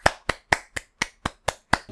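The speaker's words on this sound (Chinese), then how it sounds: "我就自己拍人工掌声啊" A single person claps their hands eight times in a steady, even rhythm to make artificial applause on a talk show. The claps are crisp, close and loud, with no voices.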